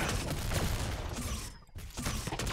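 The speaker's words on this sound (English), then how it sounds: "the left ones are programmed to shoot blindly into the darkness" Enemy gunfire in the video game Galactic Hitman, dense overlapping shots crackling continuously, with a brief drop-off near the middle before the shooting resumes.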